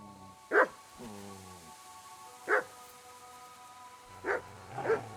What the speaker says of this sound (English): Oh, een hondje.